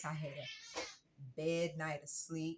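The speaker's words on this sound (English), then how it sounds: "That's my cat again." A pet cat meows repeatedly, close and fairly loud, its calls interleaved with and overlapping a woman's speech in a quiet indoor room.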